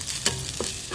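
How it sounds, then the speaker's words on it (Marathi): Garlic and coconut roasting in a pan over very low heat, a soft steady sizzle with a couple of brief stirring scrapes, close and alone for under a second. "आता लसूण आणि खोबरं घालायचं आणि ते पण 1 मिनिट भाजून घ्यायचं."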